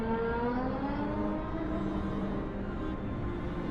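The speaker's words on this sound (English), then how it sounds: "Oh, somebody has a cool car." A car drives past in the video game Frostpunk, a steady engine whir with gliding tones that rises and slowly fades, heard alone at moderate loudness.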